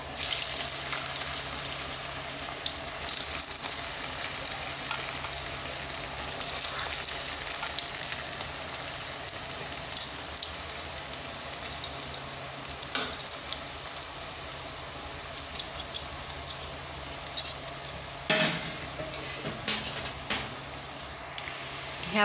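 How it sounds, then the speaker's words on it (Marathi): Baati dough balls for Khandeshi dal baati fry in hot oil with a steady, even sizzle that runs throughout, along with occasional soft clicks and stirring noises. "आपण दुसऱ्या पण बाट्या तळून घेऊ."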